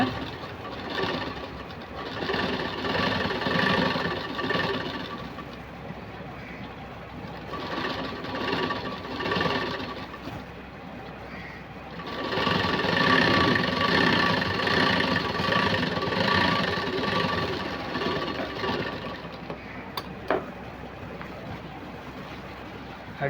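A sewing machine stitches a straight seam along the border edge of a garment puff sleeve with lace, running in long steady bursts with brief pauses, close and fairly loud, a low mechanical whir throughout.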